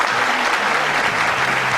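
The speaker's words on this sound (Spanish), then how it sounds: "Fuerte el aplauso." Studio audience applause on a Spanish-language TV program welcoming an author, a dense continuous patter of many hands, close and steady throughout.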